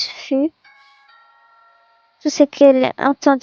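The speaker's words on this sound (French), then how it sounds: "ding dong." A two-tone electronic doorbell chime in the video game What Remains of Edith Finch rings softly between bursts of speech, clear and close.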